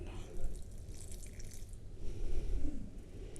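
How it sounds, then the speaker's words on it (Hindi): Water poured from a tap or jug into kachori dough in a home kitchen, a soft running trickle lasting a few seconds with faint dripping, close and moderately quiet. "लेकिन मैं इसमें 1 टेबलस्पून के बराबर पानी और डालूँगी।"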